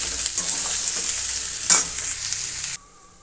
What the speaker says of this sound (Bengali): এখন আমি করে নেব কচুরলতি ভাজা